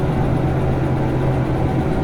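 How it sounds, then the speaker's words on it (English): A diesel-electric locomotive engine under load in the train simulator game Derail Valley, giving a steady, loud low rumble with a constant droning hum that runs unbroken throughout. "Putting some load on this engine now."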